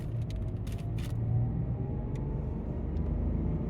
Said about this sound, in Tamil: ஃபர்ஸ்ட் கியர் போட்டாச்சு, லைட்டாக வீல் ஸ்பின் ஆச்சு.